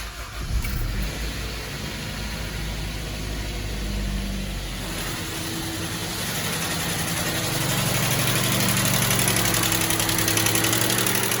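Honda CR-V B20B engine idling with a misfire and valve tick, heard close up as a rough, uneven rumble with a steady fast ticking layered on top, building slightly louder toward the end.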